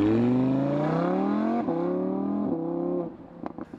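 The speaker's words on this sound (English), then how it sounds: "Not only is the power there for the driver to enjoy, so is the mellifluous exhaust tone." A 2017 Audi R8 V10 exhaust burbles and climbs in pitch, easing off briefly twice as the revs rise again, then drops away into a few short, sharp blips. The car is close and clear, with no voices.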